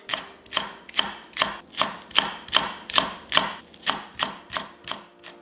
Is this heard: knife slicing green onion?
yes